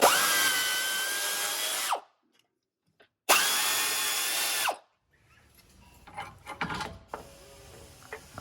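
A power tool works on the upper control arm bolts of a lifted Jeep in a garage: two loud, steady whirring runs of about two seconds each with a short pause between, then softer clanks and handling noises.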